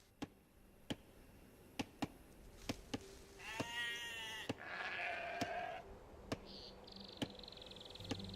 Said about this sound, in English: Now select the sheep by holding D-pad right, then move them to the town center.